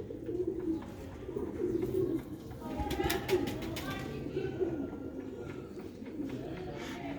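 Sialkoti pigeons coo in soft, repeated throaty rolls close by, rising and falling over a background murmur, with a few brief flutters or clicks mid-way.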